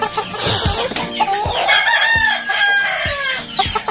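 A young Boston Roundhead rooster, about three months old, crows once in a long, rising and falling call, loud and close, with short clucks and scratchy farmyard noises around it.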